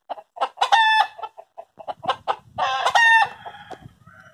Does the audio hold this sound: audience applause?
no